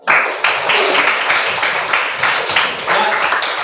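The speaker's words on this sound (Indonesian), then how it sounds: "tepuk tangan buat Mas Pipin" A classroom audience claps for a presenter in an elementary Islamic studies lesson: a burst of dense, many-handed clapping starts abruptly and continues steadily, fairly close, for several seconds.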